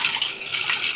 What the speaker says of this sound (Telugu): కొద్దిగా నీళ్ళు వేసుకోవాలి